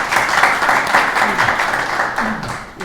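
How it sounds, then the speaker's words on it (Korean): Steady indoor applause from an audience honoring a professor at a seminary book-concert lecture, dense and fairly loud for about three seconds with a faint voice underneath toward the end. "먼저 교수님께 박수 한번 드리겠습니다"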